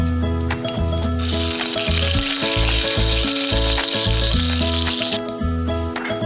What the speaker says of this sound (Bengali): তেলটা গরম হয়ে গেলে আমি এবার এতে ফোড়নগুলো দেব তেজপাতা শুকনো লঙ্কা আর পাঁচফোড়ন